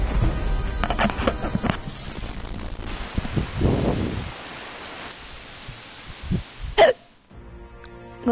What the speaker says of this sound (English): Got hiccups. This won't do.